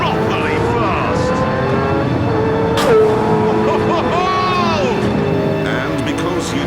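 A 938 HP 2009 Pagani Zonda R racing at the Nürburgring in Gran Turismo 7, its engine roaring steadily and rising and falling through gear changes, heard beneath continuous talk.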